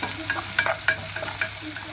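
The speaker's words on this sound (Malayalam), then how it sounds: "സവോളയും വെളുത്തുള്ളിയും ക്യാപ്സിക്കവും 2 മിനിറ്റ് നന്നായിട്ട് വഴറ്റി കൊടുക്കണം" Onion, garlic and capsicum sautéed in a pan: a continuous sizzle with a few quick scraping strokes of a spoon, close by, with no talking.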